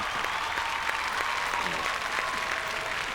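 A studio audience claps loudly and steadily for a seated performer on the set of a Marathi comedy show, the applause sustained evenly throughout with no break.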